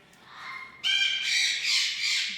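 Bare-eyed cockatoo named Brady letting out a harsh, sustained squawk from up high, a faint rising call first, then a loud raspy screech lasting over a second.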